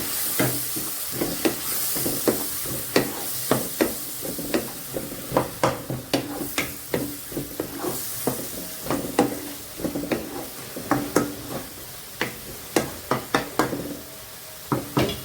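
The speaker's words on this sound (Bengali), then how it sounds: "সেই সাথে বলবো একটা আলু ভাজি করে রেখেছি, সেটা আমি এখন দিয়ে দিচ্ছি। ভালো করে কষিয়ে নেব।" Fried potatoes being stirred and sautéed in a pan for a Bengali rui fish kofta curry, with a steady sizzle under repeated sharp scrapes and knocks of the spoon against the pan, close and fairly loud.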